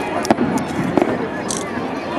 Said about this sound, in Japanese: 花火上がるよ。